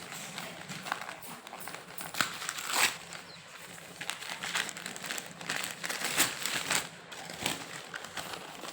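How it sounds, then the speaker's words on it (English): A parcel bundle is torn open, with crinkling and rustling packaging and scattered sharp tearing bursts, fairly quiet and close. "So let's open this bundle."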